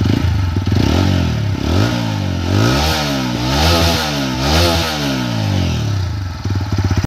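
Close-up 2024 TVS Apache RTR 160 4V motorcycle engine revving repeatedly, the pitch climbing and dropping in several throttle blips over a rough idle, loud and unaccompanied by speech.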